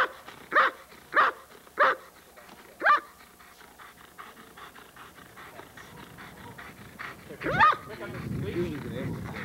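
A police K9 dog gives four evenly spaced sharp barks, then one more after a pause, close by, followed by low rustling and faint background voices.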